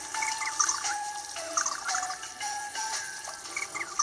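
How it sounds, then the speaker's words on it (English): Splashing and trickling water sounds from rinsing a virtual pet in the EyePet video game, a steady run of bright watery burbles and drips with no talking. "You gotta rinse them off again"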